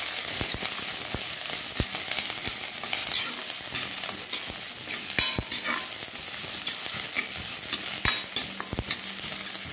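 Onion, curry leaves and coriander sauté in a pan for a potato fry, a loud continuous sizzle broken by frequent sharp scrapes and clacks of a stirring spoon, close and without talk.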